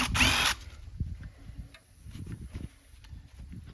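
A power drill spins off quarter-inch bolts from a large sealed unit being scrapped for copper. One short loud whirring burst is followed by scattered knocks and handling clatter.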